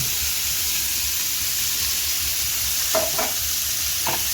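Fry piece biryani pieces frying in hot oil in a pan, a loud continuous sizzle with a few soft scraping stirs toward the end.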